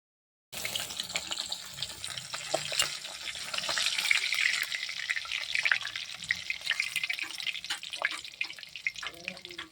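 Fish pieces fry in hot oil one after another, giving a steady, moderately loud crackling sizzle with scattered pops and clicks throughout. No voices are heard.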